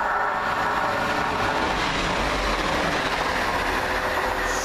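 A Class 175 passenger train passes through Pencoed station, a loud, sustained rumble of wheels on rail with a faint rising squeal, filling the whole stretch with no talking.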